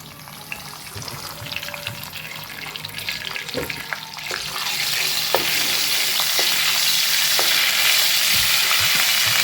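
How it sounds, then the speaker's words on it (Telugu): Curry leaves and chillies frying in hot oil for an egg masala curry, a steady close sizzle that grows louder and denser partway through, with scattered pops and spoon scrapes and no talking. "ఇప్పుడు ఈ ఆయిల్లో ముందుగా నేను ఇక్కడ కరివేపాకు వేసుకున్నాను."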